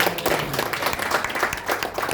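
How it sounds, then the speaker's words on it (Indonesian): Loud, close applause from an audience at an event in a Makassar hotel, many hands clapping in a lively, uneven burst with distinct individual claps standing out over the crowd. "Tepuk tangan."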